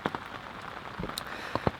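Heavy rain pours onto a fishing umbrella at a park lake in winter, a steady hiss with scattered sharper drop taps close by, no voices.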